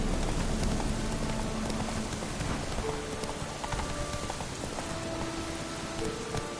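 Horse hooves clip-clop in a steady trotting rhythm in The Witcher 3, loud and close against a rain-like wash of background noise.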